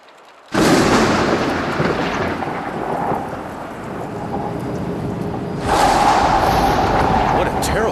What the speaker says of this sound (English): What a terrible storm.